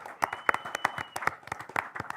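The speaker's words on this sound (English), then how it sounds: "If we could give him a round of applause, please." Scattered hand claps from a small audience at a city commission meeting, honoring an 87-year-old man's birthday; sparse, uneven claps close by with some murmuring voices mixed in.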